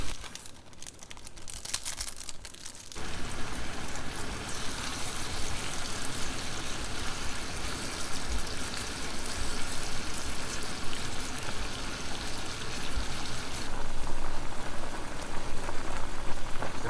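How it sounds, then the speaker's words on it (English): Steady bubbling and sizzling of water boiling in a pot fills the clip, a continuous dense crackle that grows a little louder toward the end, with no voices. "Water is boiling"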